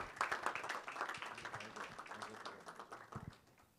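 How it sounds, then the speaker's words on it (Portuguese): Faint round of applause from an audience at an inauguration ceremony at the Cristo Redentor archdiocesan sanctuary, scattered clapping that thins toward the end. "Uma salva de palmas, por favor, dona Anani."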